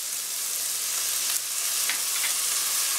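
Sugar, Ajinomoto and soy sauce hit a hot pan while cooking chilli paneer, giving a steady, loud, hissing sizzle throughout with a couple of brief stirring scrapes and no talking.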